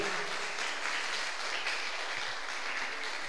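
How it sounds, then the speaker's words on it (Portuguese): Steady applause from a church congregation, a dense continuous wash of clapping at moderate distance with no break. "E dê um aplauso ao Senhor."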